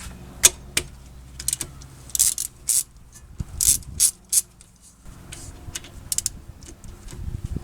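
A hand ratchet works on the 12 mm rear brake caliper bolts of a 2015 Honda Odyssey, giving close, bright bursts of clicking pawl strokes in short uneven runs with brief pauses between.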